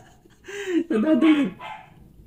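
A dog barks a few times in short, close, fairly loud bursts with yelping tones, then the sound fades into quiet.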